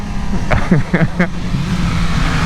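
A BMW S1000RR superbike with an ECU flash tune is being gassed. Its engine drones steadily and loudly throughout, with a brief voice-like burst partway through.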